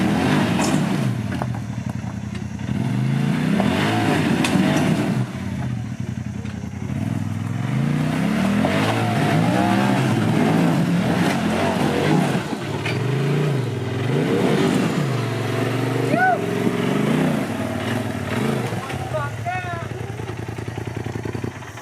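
Off-road UTV on Warrior tires climbing a muddy gully, its engine revving and surging in repeated rising and falling bursts with some clatter, loud and near, while people talk over it.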